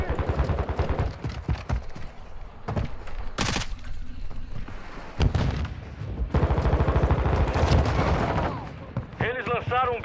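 Rapid automatic gunfire and explosions fill a Call of Duty ranked match, with dense bursts of shots throughout and game voices calling out in Portuguese over the combat.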